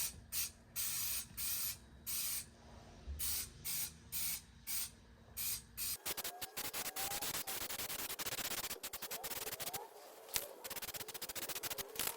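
Bursts of Raptor protective liner coating spray hiss in short rhythmic pulses onto a Toyota Hilux's wheel wells, then a longer continuous spraying with crackly texture, close and fairly loud.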